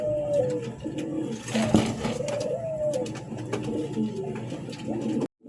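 A running pair of pigeons of two different kinds coos at close range in a loft. Repeated low, throaty rolling coos overlap, with a brief dropout near the end and no talking.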